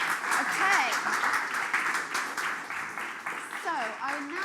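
Conference audience applause for a speaker, a steady wash of clapping held at even loudness, with some voices mixed in.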